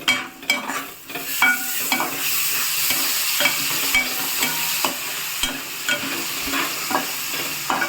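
Tomatoes go into a hot pan for an amaranth leaf fry, bringing a loud continuous sizzle broken by repeated scraping stirs of a spoon against the pan.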